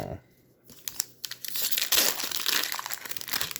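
A Magic: The Gathering booster pack wrapper is torn and crinkled open by hand, giving close, crackling plastic rustles that build after a quiet start and continue in dense bursts.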